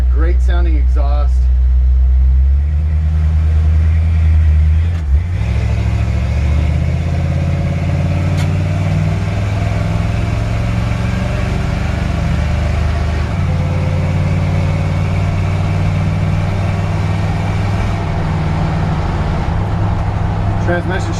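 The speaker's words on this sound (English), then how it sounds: "Got a great sounding exhaust." Idling 1956 Ford F100 pickup with a deep, steady exhaust rumble heard up close and continuous throughout, while someone talks over it in places.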